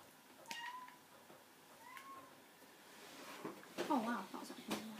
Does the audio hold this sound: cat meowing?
yes